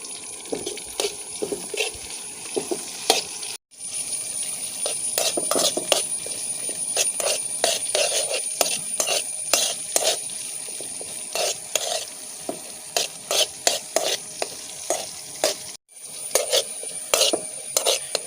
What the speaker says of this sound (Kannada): ಕಾಡು ಕೇಪಲವನ್ನು ಇದಕ್ಕೆ ಹಾಕಿ ಫ್ರೈ ಮಾಡಿಕೊಳ್ತಿದ್ದೇನೆ